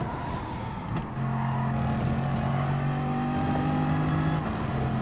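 A Bugatti Veyron race car in Gran Turismo Sport, racing a Gr.4 daily race at Monza, holds a steady loud engine drone with a brief dip in revs around a gear change, then a rising sustained tone.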